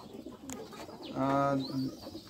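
Pigeons in a pigeon loft give one clear, close, drawn-out coo over a low background murmur.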